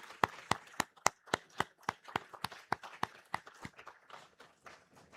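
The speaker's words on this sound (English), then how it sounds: "So please join me in a round of applause for our employees." An audience at a company's 25th anniversary event gives a round of applause for employees, heard as a run of sharp, regular claps that thin out and fade toward the end.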